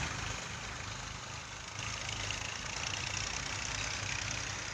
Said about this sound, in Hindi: कई ट्रैक्टर यहाँ चल रहे हैं।